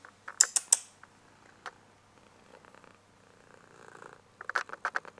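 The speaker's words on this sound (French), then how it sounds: "Ça ronronne, hein?" A domestic cat purrs in a home with a soft, faint rattling rhythm, broken by a few sharp higher creaks and clicks close by near the start and the end.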